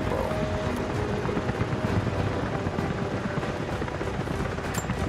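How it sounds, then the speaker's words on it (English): Military helicopters in the video game Rise of the Tomb Raider produce a steady, dense rotor drone that runs continuously without a break, with no voices over it. "Jacob, helicopters are headed your way"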